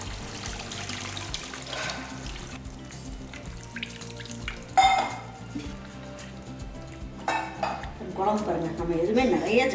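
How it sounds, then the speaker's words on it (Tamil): Kitchen clatter of pots and utensils with a splash of tamarind water being poured, followed by bubbling and sizzling as it hits simmering fish curry in a hot pan. "இப்போ நம்ம வடித்து எடுத்து வச்சுருக்க புளி தண்ணியை அதில் ஊற்றிடலாம்"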